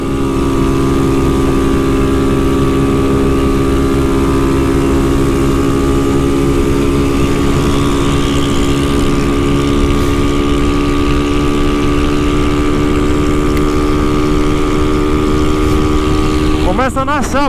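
A Honda Fan 150 Mix motorcycle engine drones loud and steady while riding to the beach, its tone holding even throughout, with a brief rising burst near the end.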